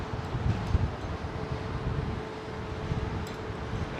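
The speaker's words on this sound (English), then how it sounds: "Quite blustery up here now." Blustery wind buffets a microphone at a Heathrow Airport viewing spot beside runway 27R, a steady rumbling roar with gusty swells and no speech.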